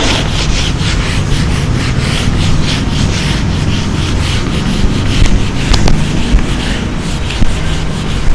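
A duster rubs a classroom blackboard clean, a loud, steady, close scraping hiss that continues unbroken, with a few faint knocks near the end.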